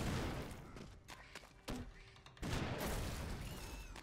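Grenade explosions in the video game Broforce: dense, chaotic blasts and thuds pile up over continuous gunfire, with a heavy burst near the end, loud and busy throughout.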